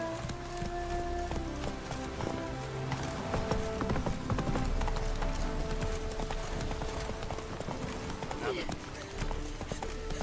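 Rhythmic clip-clop of horse hooves running steadily beneath game music and effects in The Witcher 3's Skellige, with a person talking over it.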